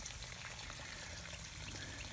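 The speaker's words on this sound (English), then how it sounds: "there's the water again, another T connector, and look how much water there is already there" Water flowing out of a T connector in PVC vinyl irrigation tubing laid in a shallow garden trench, a steady close splashing and trickling wash with no talk.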